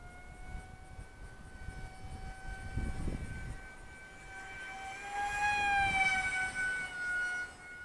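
An Eachine F16 50mm EDF RC jet on a 4S battery flies past, its ducted fan whining in a high steady tone that climbs in pitch and swells louder as it nears, with wind noise beneath.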